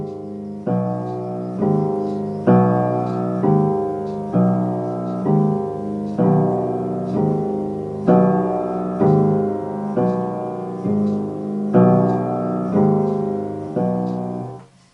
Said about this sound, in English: And this ostinato sounds like this.